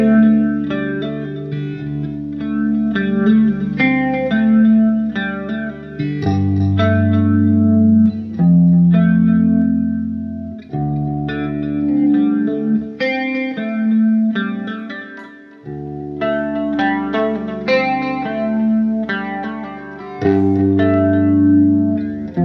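A clean electric guitar played through a Diezel VH2 amplifier rings out in sustained chords and picked notes, with chorus-like shimmer and reverb tails, loud and alone with short pauses between phrases.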